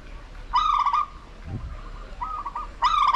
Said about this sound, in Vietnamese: Tu hú.